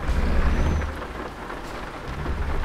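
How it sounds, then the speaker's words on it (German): Rain falls steadily in the Euro Truck Simulator video game while thunder rolls low in the background, a continuous wash of drops with deep rumbles swelling and fading. "Aber das regnet doch."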